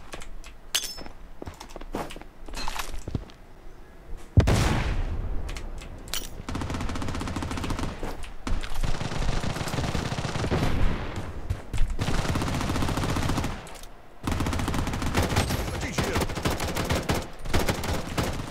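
Gunfire in the free PC first-person shooter Blood Strike: loud bursts of rapid automatic fire and single cracking shots come in clusters with brief gaps, dense and close throughout.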